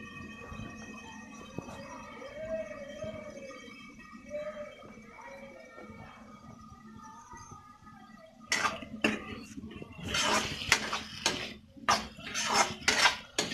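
A spoon scrapes and clatters against a cooking pot of vegetables, quiet at first and then a burst of loud, rapid metallic knocks and scrapes up close.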